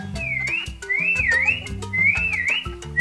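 Someone whistles three rising and falling phrases, close and bright, over steady background music.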